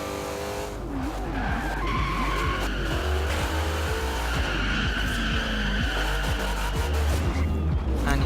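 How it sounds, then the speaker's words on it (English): A car drifts in the racing game Forza Horizon 2, its tires squealing in long wavering howls over a steady engine drone, loud and continuous throughout. "And you can do plenty of good drifts as well."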